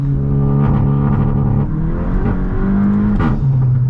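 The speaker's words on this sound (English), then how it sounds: "A little bit of wheel spin in second gear." A VW Mk8 GTI accelerating hard in second gear with some wheel spin, its engine droning loud and close with a rising tone that dips briefly at a shift-like pause, no speech.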